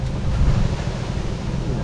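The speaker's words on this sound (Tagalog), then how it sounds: "Sarap na hangin dito, Joy." Wind roars across the microphone outdoors in a steady low rumble, with a faint surf-like wash and no clear voices.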